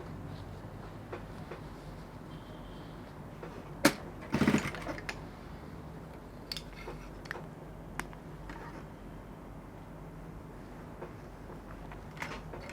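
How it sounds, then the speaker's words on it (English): A sewing machine runs steadily with a low mechanical hum and rattle while stitching together the two collar edges of a standing-collar bubu dress, with a brief louder clatter partway through and small clicks scattered across the run. "I'm done stitching the two mouths of the collar together."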